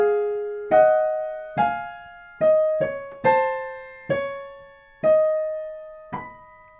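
Two overlapping hymn-tune melodies on an organ, the same opening line echoing itself like a short round: a slow sequence of single clear notes, each struck and then fading, with no voices.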